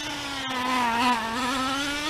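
A Traxxas Slash 2WD nitro RC car with a 3.3 engine being broken in runs at near full throttle, giving a steady, high-pitched buzzing whine that rises slightly and holds, close and continuous.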